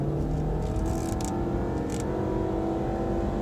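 Range Rover Evoque engine under full throttle from a standstill, a steady strained drone with a faint whirring note and little sign of the revs climbing, heard from inside the cabin with no talking.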